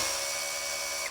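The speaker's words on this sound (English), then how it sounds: "The chuck controls how much torque or twisting force the drill will give you before pulling the ripcord and slipping" A power drill's clutch slips with a steady, loud, high whirring grind, one continuous burst of about a second that cuts off abruptly.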